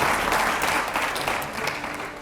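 A studio audience at a televised Hindi interview show with politician Asaduddin Owaisi claps loudly and steadily, a dense burst of applause that slowly fades, with no talking.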